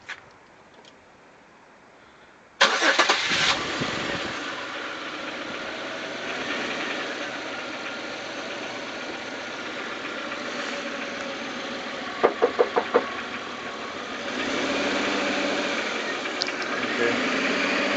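A V6 car engine with an abnormal noise runs steadily at close range after a quiet start, with a brief cluster of sharp ticking or knocking bursts partway through and a slight rise in level near the end.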